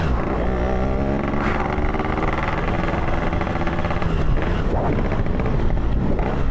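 Yamaha RX-King 135cc two-stroke motorcycle revving and riding on a potholed road, a loud, close, continuous buzzing engine with rising and falling revs and a sharper throttle burst near the end.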